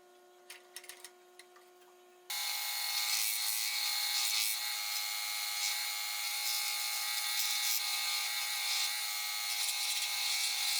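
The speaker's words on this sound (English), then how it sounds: "used them in my scroll saw under light tension to sand the puzzle pieces" A scroll saw fitted with folded sanding strips under light tension rubs wooden puzzle pieces, starting after a few quiet ticks and then running as a steady, loud, buzzing hum to the end.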